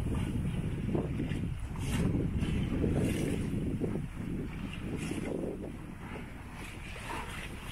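A sailboat heels under sail crossing from Corsica to Sardinia, with steady wind roar buffeting the microphone and water rushing along the hull, a constant loud wash with no voices.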